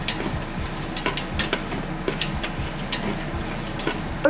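Chicken frying in oil that is running low and starting to burn, giving a steady close sizzle with light crackles and occasional stirring clicks, no voices.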